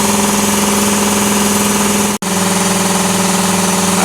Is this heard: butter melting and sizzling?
no